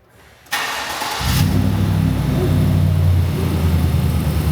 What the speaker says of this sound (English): we're gonna fire it up for the first time